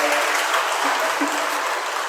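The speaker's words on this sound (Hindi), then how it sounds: "ताली बजाओ, आप" Audience at a Jain religious discourse breaks into dense, continuous clapping, loud and close, filling the whole short stretch without pause.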